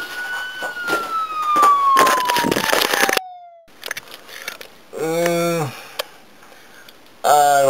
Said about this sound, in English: I'm hearing siren.